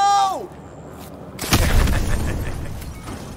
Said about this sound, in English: so place the C4 on the indicated spot. Now get a safe distance from the explosives